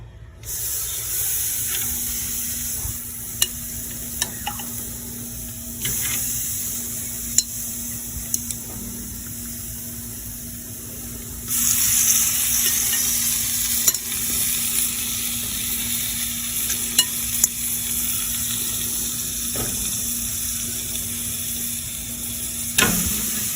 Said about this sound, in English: We've got these on there right over the heat.